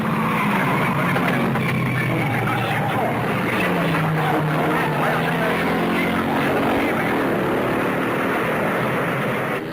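Racing cars roar around a race track in a 1954 road race, a continuous loud engine drone with shifting pitch as the cars pass, the noise steady throughout.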